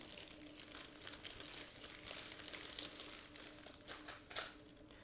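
Plastic crinkles and rustles continuously up close as a bag holding 1/72 scale model kit parts is handled and pulled open, with a sharper crackle near the end.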